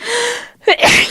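One loud, close human sneeze: a drawn-in breath, a brief pause, then a sharp explosive burst, heard on its own in a radio studio setting.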